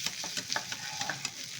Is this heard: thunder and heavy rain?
no